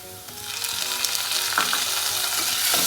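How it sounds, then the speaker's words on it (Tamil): Tomatoes tossed into a pan of frying onions for kadappa, setting off a loud, close sizzle that builds and holds steady, broken by a few stirring scrapes. "இப்போ நம்ம தக்காளி ஆட் பண்ணிடலாம்."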